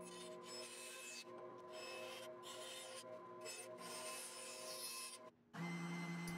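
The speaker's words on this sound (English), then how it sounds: "Cutting out the shape of the headstock on the bandsaw, and then going over to the spindle sander to even it out." A bandsaw cuts out the shape of a guitar headstock laminated from flame maple, wenge and bog oak, then a spindle sander smooths the edge; a steady close machine hum with rasping wood contact runs throughout, the pitch shifting near the end.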